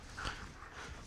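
A dog panting softly with a brief, thin whimper near the start, close but quiet, with no talk over it.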